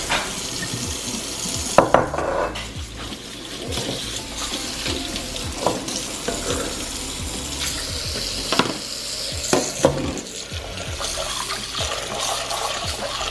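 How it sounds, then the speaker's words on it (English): Almonds are rinsed in a bowl under a running kitchen tap: continuous splashing water with clinks and swirling as the nuts are stirred, close and steady throughout. "You just want to get the almonds rinsed real good so the water runs clear"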